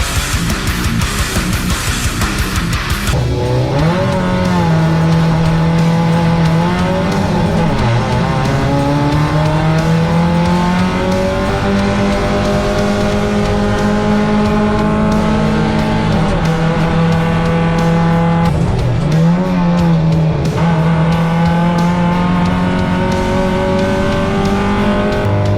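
Race cars circle the Bathurst circuit in a 62-car field, a loud close engine drone that rises in pitch through the gears and drops on each shift, with tire noise underneath.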